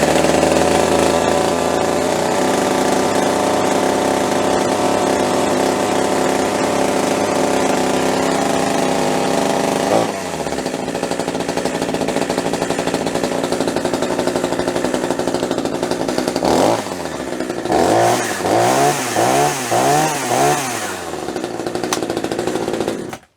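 A top-handle chainsaw fitted with an Oregon bar and chain, its chain brake engaged, roars steadily at high revs close by, then drops and gives several quick rising-and-falling bursts of the throttle near the end.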